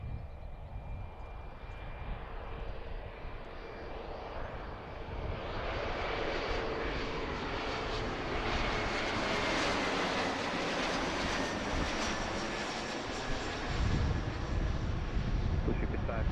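A Southwest airliner takes off at Philadelphia airport, a broad roaring jet engine rush that swells louder and stays sustained at a distance, heard outdoors with faint background noise.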